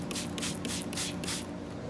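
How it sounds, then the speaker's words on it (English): Stain remover sprayed onto a child's shirt in a series of quick, hissing pump bursts, about five or six in a row, close and fairly loud with no talk. "So I'm going to go ahead and spray this side and just really soak it."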